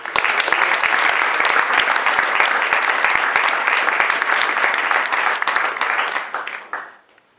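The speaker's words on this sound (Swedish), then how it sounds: "Applåder." Sustained audience applause at the Livekarusellen 2014 band contest semifinal in Sweden, loud and dense with many hands clapping at once, filling the room before tapering off at the end.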